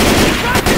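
Dense gunfire in the Left 4 Dead 2 Dark Carnival campaign, a continuous loud clatter of shots that runs the whole moment, with game noise mixed in.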